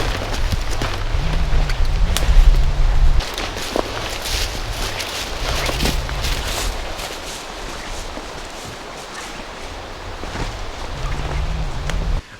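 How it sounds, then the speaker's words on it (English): Strong wind on an old hill fort's hilltop buffets the microphone, with heavy low rumbling gusts that swell and ease in waves over a rustling background, loud and close, with no talking. "it's really windy today, so hopefully the wind doesn't mess up all my sound"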